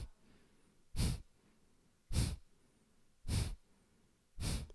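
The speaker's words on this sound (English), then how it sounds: "And maybe try breathing through the nose now." Four sharp, forceful nasal exhales during Kundalini yoga breathing, short puffs through the nose at a steady rhythm of roughly one per second, close and distinct over a quiet background.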